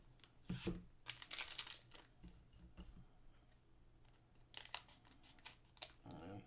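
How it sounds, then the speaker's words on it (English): Trading card packs from Elestral Firestorm starter decks are snipped open with scissors, giving crisp ticking snips and crinkling foil wrappers in bursts, with a short shake of the packs between them. "We will pre-snip all of the packs."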